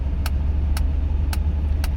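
The engine of an old, once-abandoned Mercedes 300CD, running hot and with a faulty brake caliper, hums low and steady while the car coasts. A light tick repeats at an even pace about twice a second.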